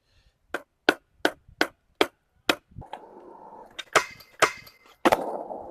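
A carbon fiber skateboard: six sharp, evenly spaced clacks, then a rough rolling, sliding rumble punctuated by several loud knocks.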